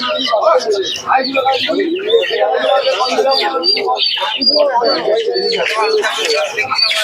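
Fancy pigeons, including Lahori birds, at the busy Santipur market chirp and coo amid dense crowd chatter, with people talking close by throughout.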